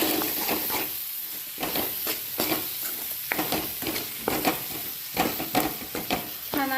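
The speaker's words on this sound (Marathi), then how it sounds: "याच्यात आपण घरचा मसाला टाकत आहे।" Homemade masala sizzling in a pan with lentils being stirred, loud frying hiss broken by frequent rhythmic spatula scrapes and knocks, close up with no voices.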